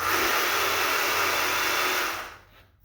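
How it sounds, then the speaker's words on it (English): A wire stripper machine cutting through copper welding lead, a steady loud whirring motor drone that runs evenly and then winds down and fades near the end, close by with no speech. "Let's see if the wire stripper will just go ahead and"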